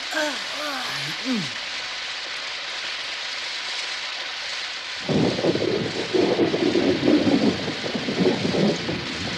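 A dull thunder rumble opens over a steady hiss, then heavy rain sets in and pours down noisily on the surface, with a voice heard briefly at the start.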